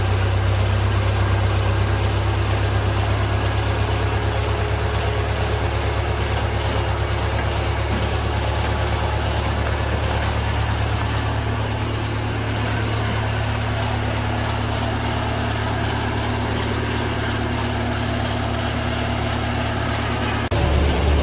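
A John Deere model 2020 tractor engine runs steadily just after starting, a loud continuous idle with a low throbbing rumble that holds for about twenty seconds, with no voices.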